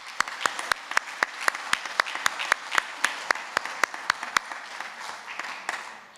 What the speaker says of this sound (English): should we give the P7s, all of them, one last round of applause?